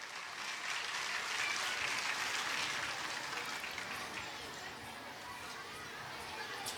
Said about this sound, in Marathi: पालकांकडून टाळ्यांचा प्रतिसाद हवा आहे.